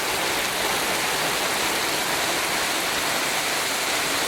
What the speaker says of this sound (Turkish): Yağmur çok şiddetli bir şekilde yağıyor